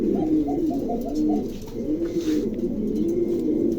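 A male pom pigeon in a cage coos in a steady run of low, rounded, repeated notes, close and clear, with faint movement in the background.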